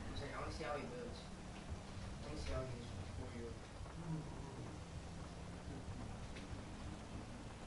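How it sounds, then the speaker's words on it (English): Rain and thunder in the GTA video game, a steady downpour hiss with low rolling rumbles, playing under a voice that talks over it for much of the stretch. "It's a raining and a pouring."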